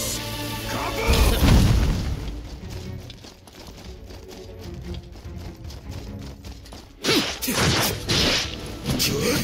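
Kaboom spell explosions in the video game Dragon Quest: Infinity Strash, heavy booming blasts with crashing debris, one large burst early and another near the end, with combat effects and rhythmic hits between.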